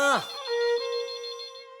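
A phone ringtone chimes close by, a bright electronic tone sustained with a rapid warbling pulse after a brief sweeping note at the start.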